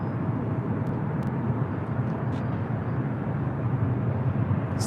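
A steady, broad engine roar from an airliner arriving at LAX, a flight in from Phoenix, holding level and fairly loud throughout with no voices, only a few faint brief ticks above it.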